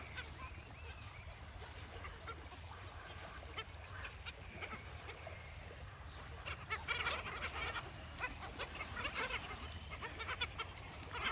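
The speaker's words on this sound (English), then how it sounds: "met a big group of pretty cool birds" A flock of ducks quacks and chatters at a distance in Florida, the calls growing busier toward the end over steady outdoor background noise.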